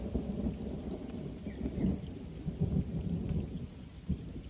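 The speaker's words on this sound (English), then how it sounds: "It's quite nice actually, thunder." Thunder rolls over a pond during an angling session, a low continuous rumble that swells and fades, mixed with steady rain.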